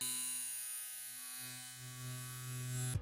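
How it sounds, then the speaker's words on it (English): A small electric shaver hums steadily up close, its even buzzing drone shifting slightly in pitch as it runs, with nobody talking. "So not a loud shaver at all"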